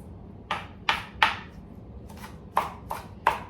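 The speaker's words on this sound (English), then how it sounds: "Okay, I'm chopping cilantro." A knife chopping cilantro on a cutting board in a home kitchen while making guacamole: seven sharp, distinct chops in an uneven rhythm, close and clear, with no talking.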